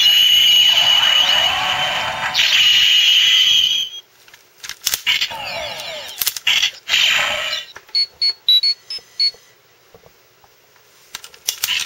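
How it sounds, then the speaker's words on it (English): A Power Rangers Super Megaforce Turbo Falcon Megazord toy communicator plays loud electronic tones and warbling sound effects, then a series of short, sharp beeps, each separated by brief silences. "Communicator beep and everything."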